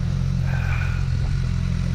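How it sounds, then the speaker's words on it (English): A four-cylinder XR motorcycle engine drones loudly and steadily up close, a smooth low exhaust hum with a faint higher whine while riding, and nobody talking. "Just kind of trying to show off the sound of the XR a little bit."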